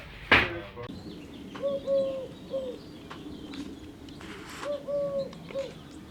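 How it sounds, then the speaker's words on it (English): Turtle doves coo softly in a slow, repeated rhythm, several low purring calls in two clusters against a quiet indoor background, after a brief sharp noise at the start. "Two turtle doves and a microphone."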